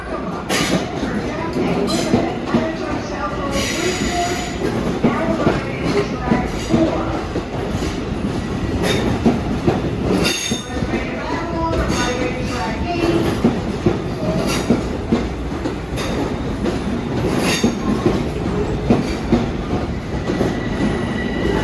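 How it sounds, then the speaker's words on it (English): A Long Island Rail Road M9 train arrives on track 4 at Jamaica station, its wheels squealing and rolling with a steady clatter, loud and close, over the hum of a busy platform with an announcement and scattered voices. "Ronkonkoma Greenport train is now arriving at track 4"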